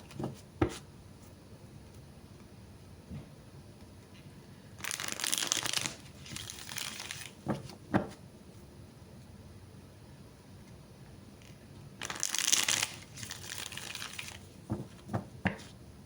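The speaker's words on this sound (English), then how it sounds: "how come sometimes I shuffle just a few times, sometimes I shuffle a lot?" Two bursts of crisp, riffling tarot card shuffling, each lasting a couple of seconds, separated by quiet stretches with occasional soft taps and clicks.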